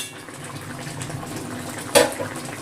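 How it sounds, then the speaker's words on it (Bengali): A pot of raw boal fish jhol simmers on a gas stove, a soft steady bubbling and hiss with one brief louder splash or clatter about two-thirds of the way through. "তারপরে একটু ফুটিয়ে নিলাম"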